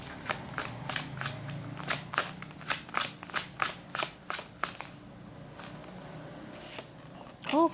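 Tarot cards being shuffled by hand, a rapid run of crisp riffling snaps in an uneven rhythm, close and clear, then a short quiet stretch before a brief vocal sound at the end.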